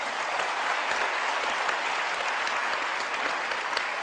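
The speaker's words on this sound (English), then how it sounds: "for the people applauding" A debate audience applauds, dense sustained clapping from a large crowd filling the room evenly and continuously throughout, with no speech on top.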